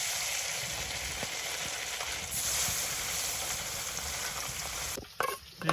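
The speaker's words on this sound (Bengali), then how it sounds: "ওগুলো দিয়ে হচ্ছে যে এই মাছগুলো ভাজা করি" Small ichha fish fry in a pan for a village-style curry with jackfruit seeds, making a steady, close crackling sizzle that cuts off near the end, followed by a few brief clatters.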